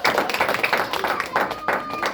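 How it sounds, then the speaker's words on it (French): An audience breaks into short, uneven clapping for a young volunteer, a quick patter of hand claps lasting about two seconds with a voice mixed in. "Elias, on va t'applaudir de m'avoir bien aidé."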